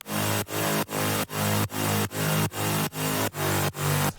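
Bright layered synth chords pulse in a steady, rhythmic pattern, with about ten sustained hits and short gaps between them.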